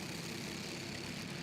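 Honda GX200 cadet racing karts revving together at a race start, a dense, steady engine drone heard at a distance in a short burst.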